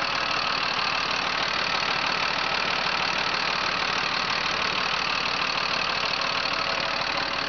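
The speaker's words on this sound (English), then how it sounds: "I'm going to bring the camera up close and be still so that you can hear this motor run" A 2006 Freightliner M2 box truck with a Mercedes diesel engine and 6-speed idles steadily up close, a continuous loud, even rumble with a fine knocking rattle throughout and no voices.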